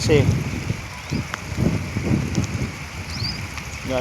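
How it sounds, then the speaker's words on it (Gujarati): Light rain falls with wind near Gundala Jas, Vichhiya taluka, Rajkot, a soft steady patter and low gusting rush while someone talks intermittently over it. "વરસાદ પણ વરસી રહ્યો છે સાથે પણ પવન પણ છે"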